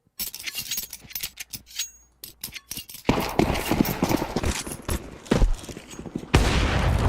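Gunfire in a Counter-Strike esports match between Heroic and Aurora at IEM Dallas 2025: sharp clicks and footstep-like taps give way to dense, steady bursts of shots, with a louder volley near the end and no talk.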